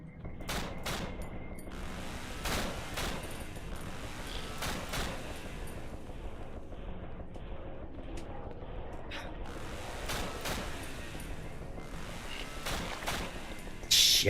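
Rapid bursts of gunfire from the video game Waking Nightmare, a magazine emptied in quick repeated volleys, loud and close, with a few brief pauses between strings of shots and a sharp final blast.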